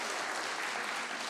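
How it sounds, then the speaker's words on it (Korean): A church congregation claps during a Sunday worship service, a brief, dense, even wash of applause heard from some distance, with no other sounds. "뜨거운 박수로 격려해 주시기 바랍니다"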